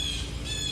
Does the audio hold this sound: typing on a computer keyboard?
no